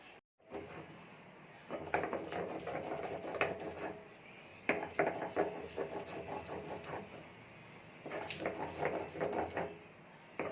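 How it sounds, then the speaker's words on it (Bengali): Spices such as ginger, garlic, cumin and green chilli ground on a stone slab (shil-nora) with a stone roller, giving repeated rough scraping strokes in steady bursts, close and moderately loud with short pauses between. "মশলাগুলো আগে শিলনোড়ায়"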